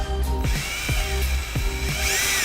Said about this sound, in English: take a drill, put a hole in here so I can push my wire through that.